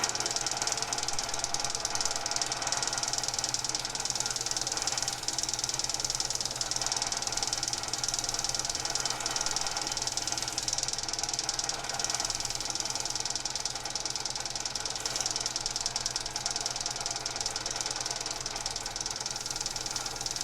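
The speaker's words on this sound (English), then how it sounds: "That flapping noise you hear is the leather belt on the machine" Vintage drill press running steadily with its leather drive belt flapping, a constant rattling mechanical drone with a rhythmic slapping texture, fairly faint and unbroken, no talking.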